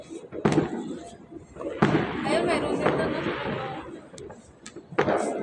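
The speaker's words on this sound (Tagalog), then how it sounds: "Diyan, nagkiputok sa dulo." Distant New Year's Eve fireworks bang in a few sharp bursts, with crackling rumble between the louder booms and faint voices in the background.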